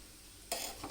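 Spoon stirring a protein laddu mixture with ghee in a pan, a soft faint scrape and sizzle appearing abruptly after quiet, brief and close.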